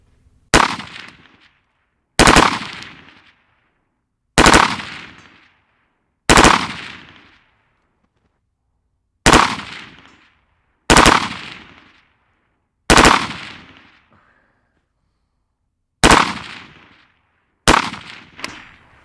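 A civilian legal P90 machine gun fires about nine short, sharp bursts outdoors, each a loud crack with a quick ringing decay, spaced roughly two seconds apart with silence between.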